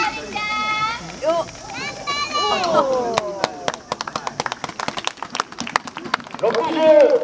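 Brisk applause breaks out at a Tokushima versus Kagawa baseball game after a ceremonial first pitch, sharp claps rising midway and continuing steadily, with an announcer's voice over the start and end.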